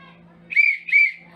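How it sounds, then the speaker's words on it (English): A tour guide blows a whistle in two strong, sustained shrill bursts, close and loud, with faint low background murmur between them. "When we arrive to our destination, you will hear me whistle once."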